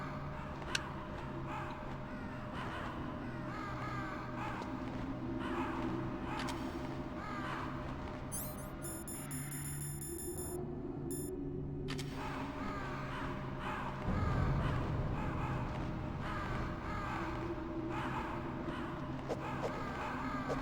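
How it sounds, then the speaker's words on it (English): Several crows caw repeatedly in the video game Metal Gear Solid against a steady background hum, with a brief electronic beeping midway and a louder rumble near the end. "Look at the birds, Jess."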